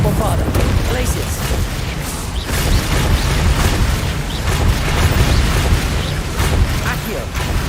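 Hogwarts Legacy combat with Confringo and Bombarda spell blasts going off: continuous loud booming explosions and bursts layered with heavy low rumble throughout, with a voice present amid the din.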